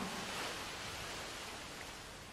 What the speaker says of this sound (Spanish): Oyes el suave y casi imperceptible susurro que provocan sus calmadas olas.